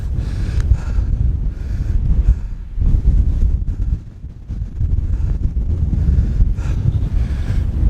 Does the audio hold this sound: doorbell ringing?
no